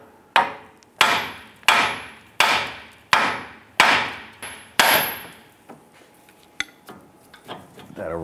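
Hammer striking the steering knuckle of a 2002-2008 Dodge Ram 1500 to release the tie rod end: about six loud, sharp metallic blows in a steady rhythm, close up, followed by several lighter taps.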